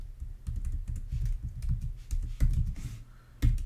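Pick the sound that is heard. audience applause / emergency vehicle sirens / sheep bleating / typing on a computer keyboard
typing on a computer keyboard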